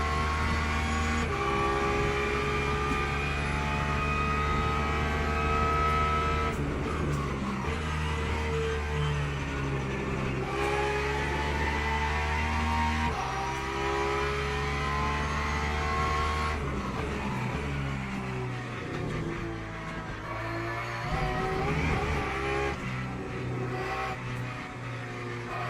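Race car lapping a track in the Le Mans Ultimate sim, its engine droning loudly and continuously, pitch rising through the gears and dropping under braking, with no talk over it.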